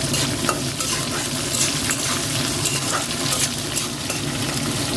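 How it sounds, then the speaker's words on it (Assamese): Onions fry in a pan with dried chillies for a chicken curry, a continuous sizzle with occasional stirring scrapes and light clinks close by, with no voices. "ৰং ধুনীয়া হোৱালৈ অকণমান ভাজিব লাগিব।"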